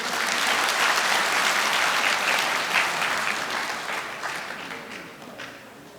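A hall full of union members at a construction workers' branch general assembly claps steadily and loudly to welcome their branch leader, the dense applause slowly fading over several seconds with no talking.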